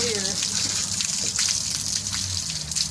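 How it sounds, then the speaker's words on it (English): Water squirting over a heritage chicken carcass during a final rinse after evisceration, a steady gushing spray running continuously at close range, with a person speaking faintly underneath. "squirt until the water is clear"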